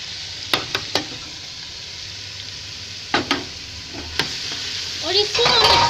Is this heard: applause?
no